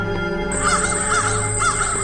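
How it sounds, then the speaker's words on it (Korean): Crows caw in the horror video game Seven Mysteries, three harsh caws at a steady pace over an eerie droning game soundtrack with a high sustained tone. "까마귀, 까마귀 쫓아온다!"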